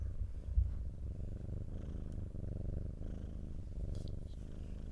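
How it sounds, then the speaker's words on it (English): A cat purrs steadily and close up, a low rumbling drone that continues throughout with soft rhythmic pulses. "purr"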